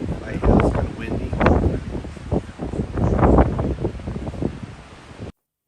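Strong gusts buffet the microphone beside the Cape Horn Lighthouse, rising and falling in loud, rumbling surges with a brief lull between them, with no talking.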